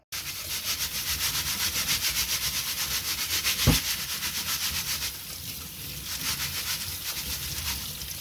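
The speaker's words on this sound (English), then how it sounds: "So we're going to give these a really good rinse, and then we will get them into the pot." Dried beans being rinsed in water give a continuous rubbing, swishing hiss that pulses rhythmically, with one sharp knock partway through and no voices.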